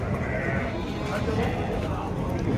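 Sheep bleat at a busy livestock market amid a dense crowd noise, their calls blending under nearby people talking throughout.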